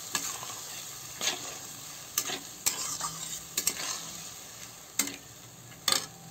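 Soaked, swollen chana dal with salt stirred in a hot pan, a low steady sizzle broken by sharp spatula scrapes and clinks at irregular intervals, close and fairly quiet with no talk.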